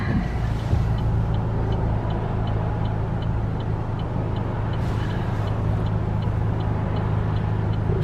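Steady engine and tyre rumble heard from inside a car on a morning commute, with a turn indicator clicking in an even rhythm throughout; no one speaks.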